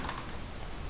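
Quick keystrokes on a computer keyboard form a short, soft patter, heard alone in a quiet room.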